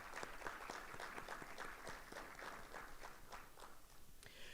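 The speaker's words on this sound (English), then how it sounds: "Please join me with a round of applause." Audience applause welcoming the chief guest at a university infrastructure center announcement, a faint, steady patter of many hands clapping throughout with distinct individual claps standing out, fading slightly near the end.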